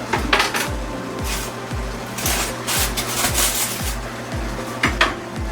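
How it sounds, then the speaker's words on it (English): Steady, brisk knife chopping of tomatoes on a cutting board, sharp thuds repeating about twice a second, close and fairly loud. "chopping my tomatoes"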